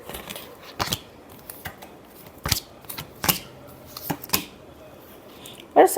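Tarot cards shuffled by hand in a final shuffle for a love reading, giving a series of sharp, brief papery riffles and snaps spaced irregularly over quiet background, with a louder burst at the end.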